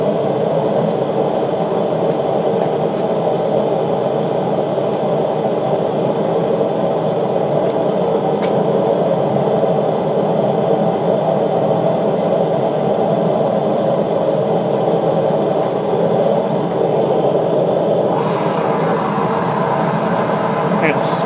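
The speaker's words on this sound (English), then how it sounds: "I'm running the 12-volt blower here off a battery charger that has a 6 and a 12-volt setting" A 12-volt blower run at reduced speed on 6 volts from a battery charger, feeding a homemade propane burner, gives a steady close whirring roar that holds unbroken throughout.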